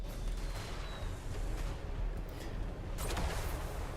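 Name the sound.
flame cannons firing in Warhammer 3 video game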